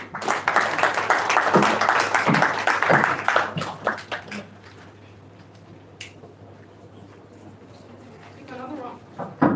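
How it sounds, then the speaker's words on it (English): Applause from an audience at a Nigerian-American Chamber of Commerce event swells loudly for a few seconds, then fades into quiet room noise as a voice begins to speak near the end. "Another round of applause for the representative of the Honorable Minister"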